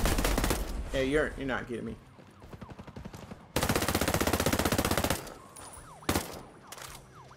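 Gunfire in Ghost Recon Breakpoint, loud bursts of rapid shots in a video game firefight, with a voice talking over the shooting and gaps of quieter ambience between volleys.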